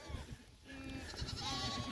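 Sheep bleat from a grazing flock on fresh spring pasture after a drought, with a couple of clear, wavering calls close by over a low rustling outdoor background.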